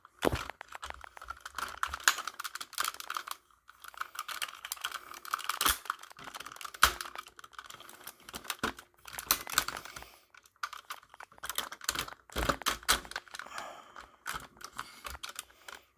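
Plastic parts of a leader class Transformer toy being unhinged and folded down: a steady run of small, close, dry clicks, snaps and ratcheting ticks, with brief pauses between bursts.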